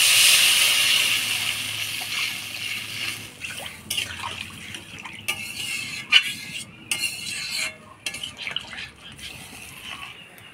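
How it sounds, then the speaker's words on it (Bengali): Water is poured into a pan of fried potatoes and spices for a pangas fish curry. It begins as a bright rushing pour, then settles into intermittent clinks, stirring and bubbling. "এবার জল দিয়ে দিই"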